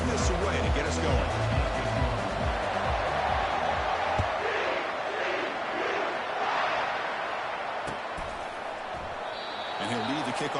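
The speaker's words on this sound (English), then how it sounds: "this home crowd is fired up and ready to make a difference today" A fired-up home crowd roaring continuously in the EA Sports College Football video game at a Horned Frogs kickoff, a dense loud wash of cheering under commentator talk throughout.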